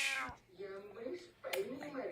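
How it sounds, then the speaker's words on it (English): A cat meows several times in a row, close and fairly loud, with drawn-out, wavering cries and brief pauses between them. "Those are meows."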